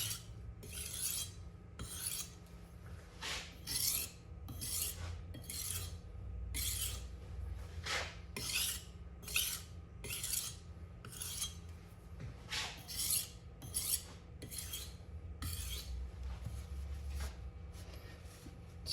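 A knife is being sharpened on a sharpening stone. Repeated rasping strokes follow one another in a steady back-and-forth rhythm. They are close and clear, with faint background hum and no speech.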